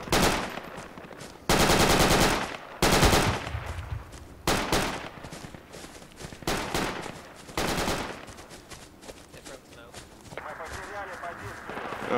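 Machine gun fire in a shooter video game, coming as several loud, long automatic bursts split by short pauses, with players talking between the volleys.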